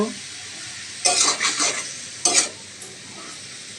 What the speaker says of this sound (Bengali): এবার আমি 3 মিনিট ভালোভাবে উল্টে পাল্টে নেড়ে চেড়ে নিব, যাতে ভালো একটু মাখা মাখা হয়